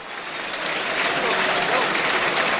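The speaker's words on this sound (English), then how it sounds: "Generous round of applause for him" A football stadium crowd at a Grimsby Town versus Nottingham Forest match applauds a substituted player leaving the pitch, a broad, steady swell of clapping that builds and holds under a commentator's voice.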